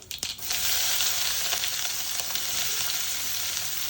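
Mustard seeds sizzle and crackle steadily in hot oil in a pan, a loud continuous hiss after a brief clatter at the start, with no voices.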